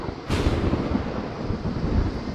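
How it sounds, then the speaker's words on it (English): A sudden thunderclap in a Roblox flight simulator (ATC-24) breaks in sharply, then a heavy rolling rumble sustains loudly for a couple of seconds with no talking over it. "I could obviously hear the thunder"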